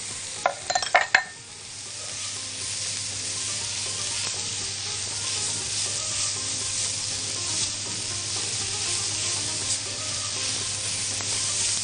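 Onions sautéing in a pan with cinnamon and seven spices, opening with a few sharp clattering knocks and then settling into a steady, close sizzle with light stirring scrapes.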